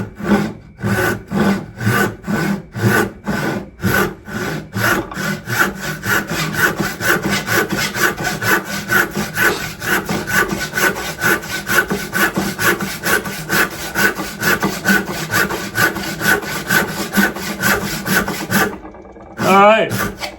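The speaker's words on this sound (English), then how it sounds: "Now let's see how it performs in rip mode." Hand saw ripping white oak 2 3/8 inches thick, filed hybrid with 10 degrees rake and 10 degrees bevel: a steady run of loud rhythmic rasping strokes, close and unbroken, with a short pause near the end.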